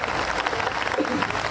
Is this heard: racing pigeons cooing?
no